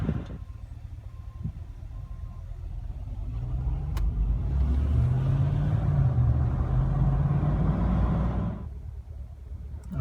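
A GM truck engine idles in a steady low rumble while the transmission is shifted through reverse, neutral and drive, with a mid-section swell in load and hum before it settles back, heard close and without talk.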